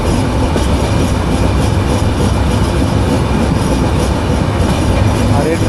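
Banolata Express train running through Saydabad station: a loud, dense, continuous rumble of wheels on track with steady rattling, heard from on board.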